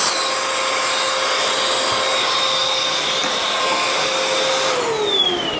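A Bissell Powerglide Pet vacuum cleaner runs continuously with its suction release valve stuck open, giving a steady high whine with sharp tonal lines. Near the end the pitch dips briefly, heard up close with no talking.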